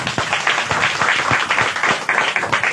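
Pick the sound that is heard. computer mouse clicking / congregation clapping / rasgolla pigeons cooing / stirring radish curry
congregation clapping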